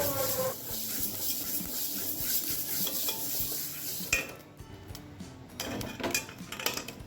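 Fenugreek and spices dry-roasting in a pan over a medium flame for sambar powder, with steady scraping and stirring strokes, light sizzle and occasional metal clinks close up, growing busier toward the end.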